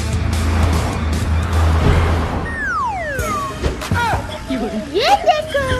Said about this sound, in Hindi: ये देखो, मैं बिना हाथ पकड़े गाड़ी चला रहा हूँ